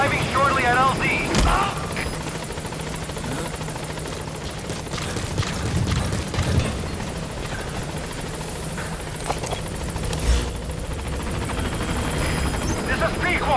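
Pequod, the helicopter in Metal Gear Solid V, approaches a landing zone with a steady, loud rotor drone and engine roar that fill the whole stretch, with a voice at times and other game sounds mixed in.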